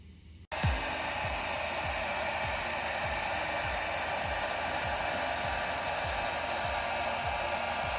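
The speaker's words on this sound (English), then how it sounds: "So I'm going to try to use a heat gun, see if I could pull this off," A heat gun switches on with a click and then blows a loud, steady, close rushing roar for several seconds while warming the adhesive on an Audi B8 steering wheel airbag trim, with no one talking.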